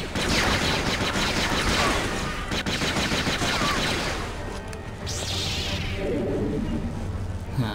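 Blaster fire from the video game Jedi Academy fills the stretch almost without pause, with dense rapid shots and crashes at a steady loud level and a little muffled talk underneath.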